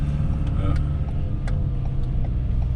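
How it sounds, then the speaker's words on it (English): Road traffic with cars driving along a street in Spain, a steady close engine rumble with passing vehicles and occasional sharper knocks, continuous throughout. "Joe's showing you just what the traffic's like and how to behave."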